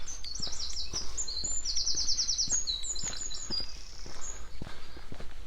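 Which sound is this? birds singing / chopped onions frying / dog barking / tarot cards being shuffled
birds singing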